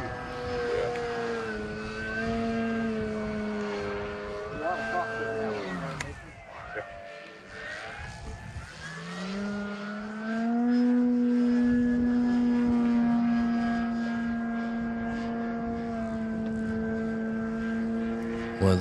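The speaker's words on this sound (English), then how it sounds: "I've been practicing blipping my throttle." A Flex Innovations RV8 60e electric RC airplane whines overhead with a steady propeller tone, its pitch dipping and surging sharply as the throttle is blipped, then holding a strong, loud drone as it passes nearby.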